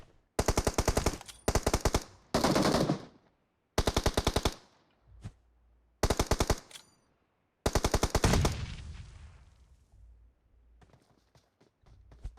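Automatic gunfire in the mobile battle royale game PUBG Mobile on the Kadim Orman forest map, coming in several loud rapid bursts separated by short gaps, with a few fainter, more distant shots near the end.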